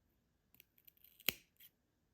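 Scissors cutting the stem of a dwarf jade plant: a few faint clicks, then one sharp, close snip, and a small rustle after it.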